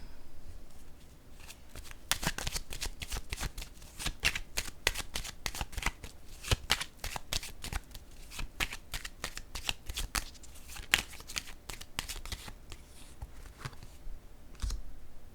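A deck of playing cards is shuffled repeatedly in a quiet room, giving a run of crisp riffling bursts and flicks that continue close and steady throughout.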